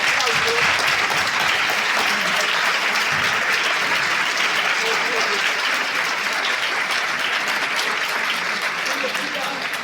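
Audience applause honoring a professor at a faculty gathering, loud, dense and continuous clapping from a large crowd lasting the whole stretch, with faint voices mixed in.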